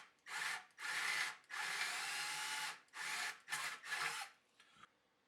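A power drill whirs in several bursts of varying length, drilling holes for nutserts in a router table top, separated by short pauses, close and loud, ending with a brief final spurt.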